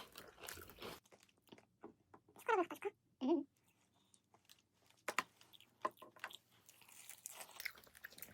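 Someone crunches on crispy Kwasak King fried chicken close to the mic, giving a few sharp bites and chews between quiet pauses. Soft rustling fills the gaps, and a voice murmurs briefly.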